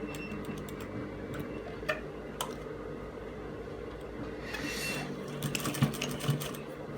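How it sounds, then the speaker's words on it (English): A sewing machine stitching turtleneck fabric runs with a steady quiet mechanical ticking hum, with a few brief clicks and rustles of cloth being handled near the end. "I'm going to place it under the machine like this, making sure it's well aligned. Then I'm going to stitch it."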